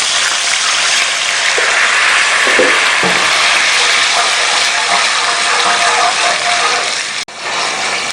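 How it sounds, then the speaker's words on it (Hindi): Broad hissing and bubbling fills the clip as water is poured into a hot cooking pot with garlic, ginger and black cumin for tomato pulao, with a few faint clinks and a brief cut near the end. "पानी डाल दें।"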